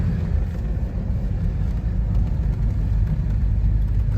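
An Edsel Corsair car drives through a neighborhood. Its engine holds a steady, close, continuous rumble under gentle acceleration, and no one speaks.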